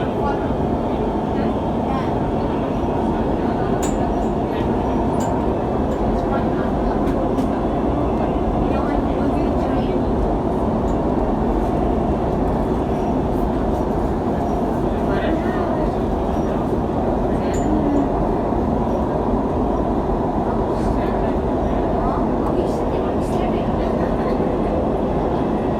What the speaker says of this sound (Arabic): The final destination of this train is Center Point.